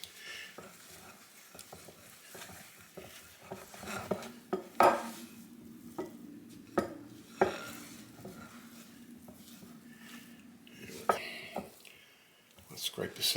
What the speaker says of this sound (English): Just keep pushing it into it and mixing it and turning it, and pretty soon it's going to be a fairly smooth dough.